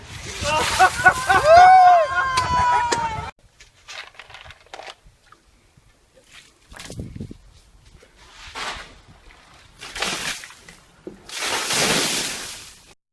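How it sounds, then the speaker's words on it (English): Bucket of ice water dumped over a person's head outdoors for the ALS ice bucket challenge, a brief loud splash and slosh after a voice counts down, followed by several scattered splashes and spatters with talk around them. "You dump ice water on your head."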